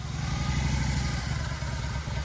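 A Harley-Davidson Twin Cam 88 V-twin, a 1999–2001 touring engine, runs with a steady, loud, rumbling throb and mechanical clatter, close up with no voices.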